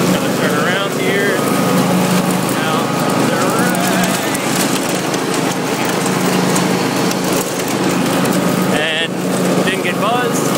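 A lawn mower passes right beside a beehive, its engine a constant loud drone throughout, with a voice talking over it.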